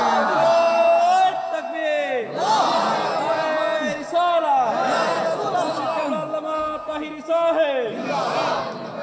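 A crowd at a Ramadan sermon shouts the takbir together in repeated loud, massed calls. The calls swell and fade in waves under a strong lead voice.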